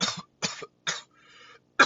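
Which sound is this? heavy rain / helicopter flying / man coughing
man coughing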